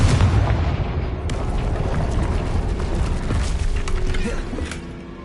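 Confringo fire spell going off in Hogwarts Legacy, a loud booming blast with rumbling debris and crackle that holds steady for several seconds before easing off at the end.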